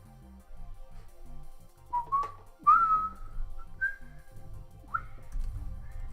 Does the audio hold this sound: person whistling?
yes